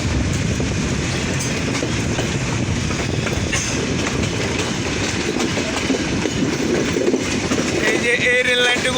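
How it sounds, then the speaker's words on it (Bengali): Chilahati Express intercity train pulling into Parbatipur Junction, a steady loud rumble of rolling wagons with clattering wheels and a brief squeal of wheels near the end, heard close and continuous throughout. "দেখতে দেখতে কিন্তু মুড়ি শহর পার্বতীপুর জংশনে ইন করলাম।"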